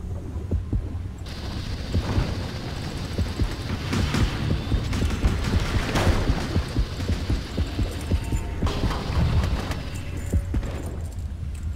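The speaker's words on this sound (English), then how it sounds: "there's heartbeats, but they're very, very quiet." Faint, steady heartbeat thumps in the game Depth pulse beneath a constant low hum and scattered in-game noises.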